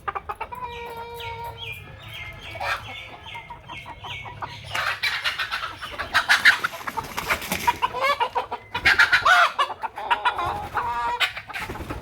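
Desi chickens on a farm clucking close by, with a run of repeated short calls early on, then busier overlapping clucks and squawks from several birds.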